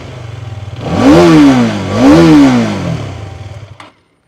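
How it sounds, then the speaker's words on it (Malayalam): A Hero Karizma XMR motorcycle engine idles, then revs twice in two quick rising-and-falling throttle blips before dropping back and cutting off, loud and close with no voices. "ഇതിൻ്റെ ഒരു എഞ്ചിൻ നോട്ടും കേൾക്കാൻ രസമാണ്."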